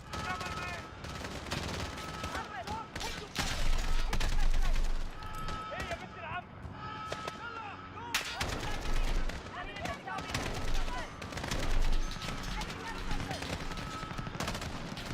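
Bursts of automatic rifle fire and scattered shots in Call of Duty: Modern Warfare (2019), loud and near, coming in irregular volleys with brief lulls, while a person talks over parts of it.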